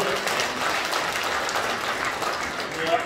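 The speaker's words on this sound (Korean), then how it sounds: "박수 한번 주십시오" An audience at the inauguration ceremony of a new Korean senior citizens' association president breaks into continuous, dense applause for about three seconds.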